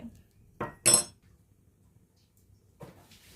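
A few metal clinks and scrapes of a utensil against a pot while stirring a ripe jackfruit dish, close and separated by quiet pauses, no voices.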